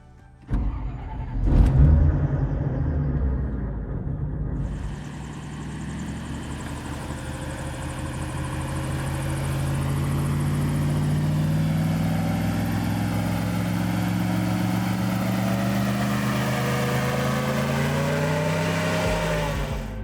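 An airboat's Chevrolet Camaro car engine sputters and starts with a few loud bursts, then settles into a steady, loud drone with a propeller roar that swells slightly over time.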